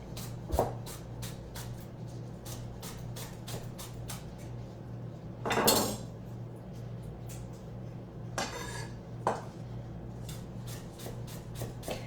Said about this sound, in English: I'm going to slice them thinly